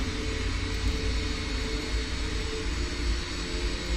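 A steady airplane engine drone at Lukla airport in X-Plane 10 as the aircraft taxis, loud and even throughout with no talking.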